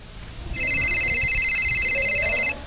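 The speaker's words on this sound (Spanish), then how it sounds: "Está sonando mi celular." A mobile phone rings loudly and close by, a bright electronic tone sustained for about two seconds over a low indoor background.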